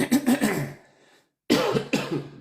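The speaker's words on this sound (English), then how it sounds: "Clear my throat." A person clears their throat up close in two rough bursts, separated by a brief silent pause.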